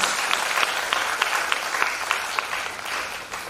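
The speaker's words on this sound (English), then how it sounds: "So please welcome Panditji with a huge round of applause" A concert audience at a town hall classical music festival applauds to welcome a performer, dense, steady clapping with rhythmic accented claps standing out, close and loud, fading slightly at the end.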